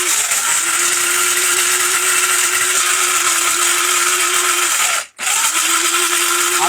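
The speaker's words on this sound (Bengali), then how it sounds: "এই যে বুটের ডাল এটাও কিন্তু আজকে একেবারে ব্লেন্ড করে দিবে" An electric grinder runs steadily at high speed, blending soaked chana dal with a loud continuous whirring drone; the motor cuts out briefly near the end, then whines back up to full speed.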